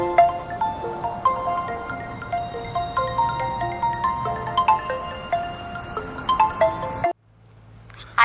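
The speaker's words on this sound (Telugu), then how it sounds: "వైఫ్ కాల్ చేస్తుంది." A mobile phone rings with an incoming call, playing a bright melodic ringtone in a repeating pattern of tones for about seven seconds, then stopping abruptly and leaving a low hum.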